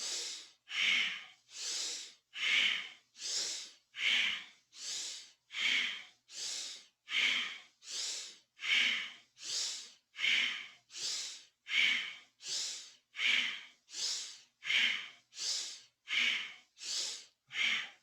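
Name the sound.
powerful breathing in Kundalini yoga exercise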